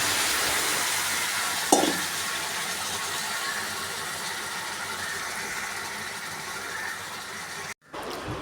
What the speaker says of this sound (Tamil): பிரட்டி நன்றாக கிளறவும்.